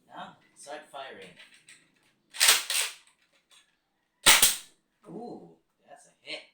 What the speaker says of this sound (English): Now, start firing.